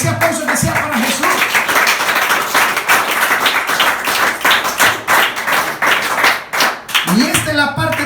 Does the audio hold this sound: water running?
no